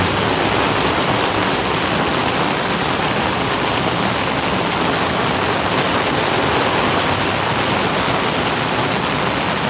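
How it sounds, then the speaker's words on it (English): Steady, heavy rain pours down continuously, a dense hiss of water with no pauses or voices. "It's a good little rain this time."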